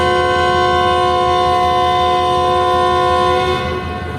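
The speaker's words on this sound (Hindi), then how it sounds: "ट्रेन चलना शुरू हो गई है" A Sukkur Express passenger train bound for Karachi sounds a long, loud, steady horn blast close by as it starts to move, the rumble of the rail cars underneath.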